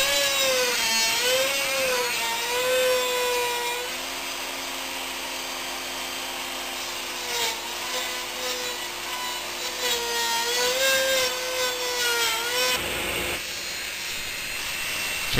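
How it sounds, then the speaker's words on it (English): A slot mortising machine used as a router table cuts a rabbet along the bottom inside edge of wooden box sides, giving a continuous loud high-pitched motor whine with grinding and cutting noise that rises and falls as the wood is fed through. "I'm using my slot mortising machine as a router table to do this."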